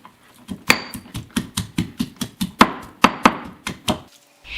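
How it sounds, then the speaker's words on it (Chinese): Three garlic cloves and chunks of century egg are pounded together in a stone mortar, giving a steady run of about fifteen sharp, close thuds at a regular rhythm, each with a brief ringing tail, and no one speaking. "在石臼中放入3瓣大蒜和切好的皮蛋一起擂"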